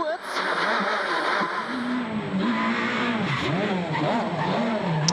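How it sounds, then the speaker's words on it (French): Peugeot 207 S2000 rally car on a stage of the Jänner Rally, an ERC round, its engine note rising and falling steadily and loud throughout under continuous commentary. "à commencer par Andreas Eigner, qui continue donc son apprentissage au volant de cette 207 S2000"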